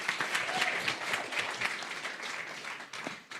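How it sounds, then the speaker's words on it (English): A crowd at a Conservative leadership hustings breaks into brief, lively applause, a close busy patter of many hands with a few sharper individual claps. "They were supposed to clap you"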